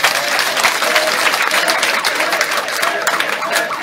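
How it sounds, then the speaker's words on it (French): A crowd at a political rally for Blé Goudé in Tabagne applauds loudly and continuously, a dense wash of clapping with scattered cheers and voices mixed in. "Applaudissez-moi ça très bien"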